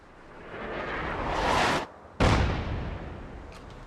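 Sustained, loud gunfire in the video game Fallout 4, heard as dense roaring bursts that swell and then cut off abruptly. After a short gap the fire resumes, tailing off gradually.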